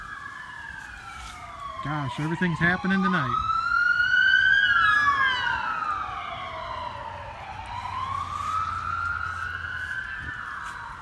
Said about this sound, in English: Been sirens going off all night.